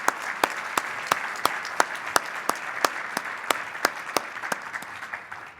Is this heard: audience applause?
yes